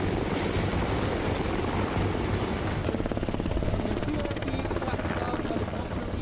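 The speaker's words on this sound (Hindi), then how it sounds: "ये अमेरिका का CH-53 हेलीकॉप्टर है" A CH-53 helicopter's rotor drone throbs steadily and loudly throughout, with dense broadband engine and wash noise and a faint rhythmic beat in the second half.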